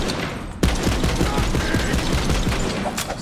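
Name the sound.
gunfire from guns in video game Borderlands 3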